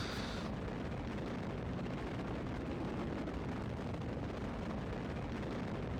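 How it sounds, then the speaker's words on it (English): Solid rocket boosters roaring during a Kerbal Space Program launch, a steady, dense, loud rumble that runs unbroken throughout with no voices. "Just going to let the solid rocket boosters get me up as high as it possibly can"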